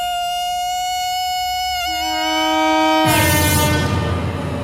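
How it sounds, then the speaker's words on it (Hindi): A train pulls into a station platform, sounding a long sustained horn that shifts in pitch before a loud rumble of rolling wheels and carriages builds and holds. "ट्रेन प्लेटफॉर्म क्रमांक 2 पर आने वाली है।"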